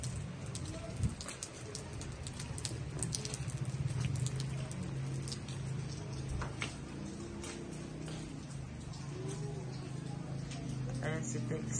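Steady rain patters down during a power outage at night, a dense, even wash of drops with scattered sharper taps; faint voices can be heard in the background.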